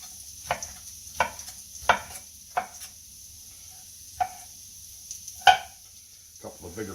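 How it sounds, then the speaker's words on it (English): Vegetables are roughly chopped with a freshly sharpened knife on a cutting board, a slow series of about nine distinct, crisp knife strikes spaced irregularly, close and fairly loud with quiet gaps between. "we're going to give them a rough chop on this side"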